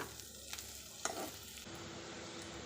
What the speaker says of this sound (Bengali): তাই আমি এখন উচ্ছের সঙ্গেই তিলটাকে দিয়ে দিলাম।